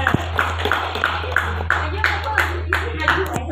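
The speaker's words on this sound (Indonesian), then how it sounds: "Tepuk tangan." An audience at a school class-promotion and report-card ceremony claps in a steady rhythmic beat, about three claps per second, with a low hum underneath and voices talking over it.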